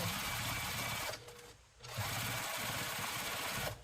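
A sewing machine stitches binding onto a large quilt with a fast, even whirring run, pauses briefly, then resumes at the same steady pace, close and fairly quiet.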